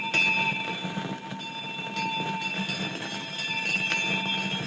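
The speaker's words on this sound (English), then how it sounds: "he saw the bell begin to swing." Bells ring in a steady, sustained peal of bright metallic tones that hang in the air, joined by a few sharper strikes throughout.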